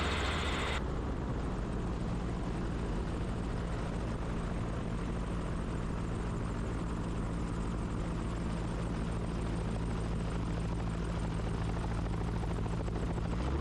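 A gyroplane in a power-off vertical descent, heard from the cockpit as a loud, steady roar of rotor and wind noise that continues without a break; no one speaks.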